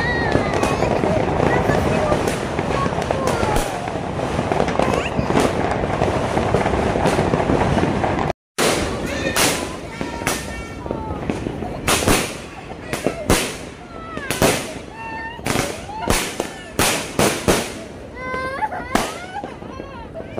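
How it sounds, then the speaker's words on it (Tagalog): Fireworks and firecrackers going off at a campsite, first a dense roar of crackling, then a run of separate sharp bangs and pops, with people talking in between. "Tapos na yung putukan"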